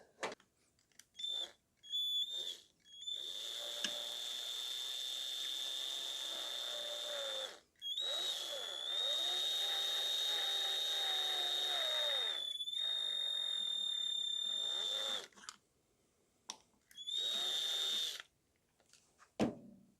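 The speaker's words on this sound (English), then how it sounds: "Then we're going to drill into it in this side." A power drill whines at a steady high pitch in several long bursts, boring a hole in a gel blaster part, with brief pauses and short clicks between runs, loud and close.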